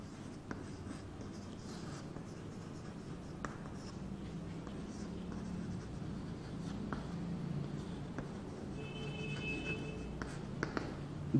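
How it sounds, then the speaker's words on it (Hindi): Marker or chalk writing on a classroom board while a teacher writes out a chemistry definition of organic compounds, a steady scratchy stroking texture running continuously under a hum of room noise, with faint speech-like sounds mixed in. "तो लिखेंगे यहाँ पर डेफिनेशन लिख लेते हैं ऊपर"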